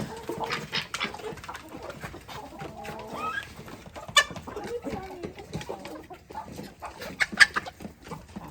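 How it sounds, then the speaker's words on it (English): Several chickens cluck and murmur nearby in scattered bursts, with a few sharper squawks and soft rustling between them. "And I think the chickens jumped in to get the crumbs."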